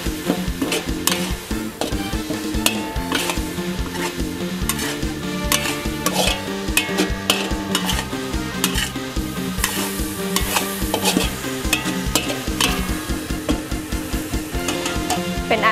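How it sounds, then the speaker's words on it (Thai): Chicken offal being stir-fried with holy basil and its flowers in a pan: constant sizzling under rapid, rhythmic spatula scrapes and clatters on the metal, loud and near throughout with no talking. "จากนั้นก็ผัดให้เข้ากันค่ะ"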